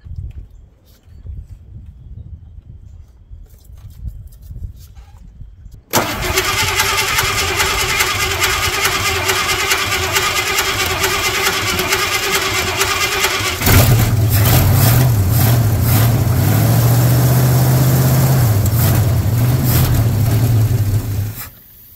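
A Ford F250 truck, left sitting in a horse pasture for eight years, cranks and fires up after quiet shuffling. It settles into a loud, steady idle, then runs with a deeper, rougher drone as the revs rise and fall, close by and alone.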